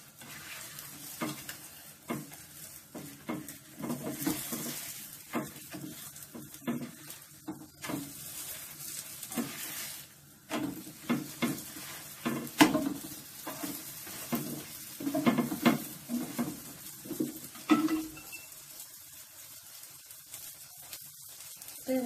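Malawi flatbread, an olive and thyme version, frying in a pan, with a steady sizzle broken by repeated scraping and stirring scrapes near the mic; no voices.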